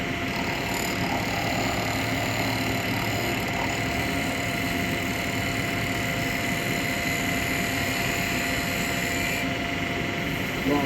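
A wood lathe turns a bowl while a detail chisel shapes its outside, giving a steady, unbroken whirring drone with a faint high whine that holds level throughout.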